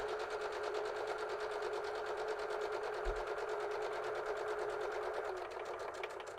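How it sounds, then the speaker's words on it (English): A sewing machine stitches small fabric scraps for a quilt block with a scant quarter-inch seam, running in a continuous even hum throughout and easing slightly toward the end. "Let's get a stitch started on my little scrap here."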